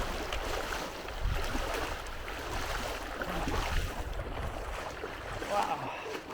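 Feet wade and splash through a cold mountain stream in Sandfly Valley, Aspiring National Park, New Zealand, with rushing water washing continuously close by for several seconds and the surges rising and falling with each step.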